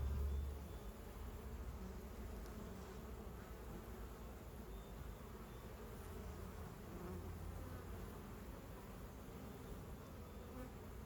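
Honeybees swarm over hive frames full of drones and capped and uncapped brood, a dense continuous buzzing hum close by, steady and unbroken with no voices.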